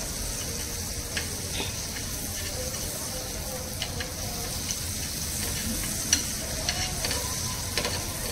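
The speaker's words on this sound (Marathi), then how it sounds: "मस्त तव्यावर एकदम सर्व ठिकाणी पसरवून घेत आहेत." Steady sizzling of French toast frying on a hot griddle, with occasional light scrapes and clicks, fairly quiet and continuous throughout.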